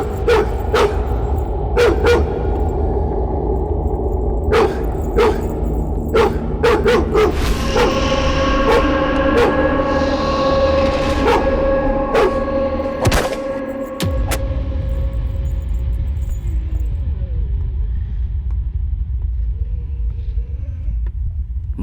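A dog named Mani barks repeatedly in sharp bursts over a heavy low rumble and sustained tonal sounds in an action film scene.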